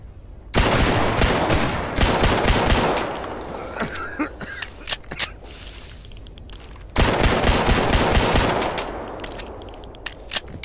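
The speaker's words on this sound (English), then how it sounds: "He's shooting at me now." Rapid bursts of automatic gunfire from an enemy in the S.T.A.L.K.E.R. video game, two long loud volleys separated by quieter scattered shots, with no talking over them.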